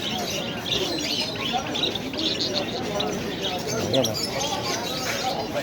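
Many birds for sale at a bird market in Dammam, Saudi Arabia, give a dense, steady chorus of chirps and coos mixed with crowd noise, with someone talking over it.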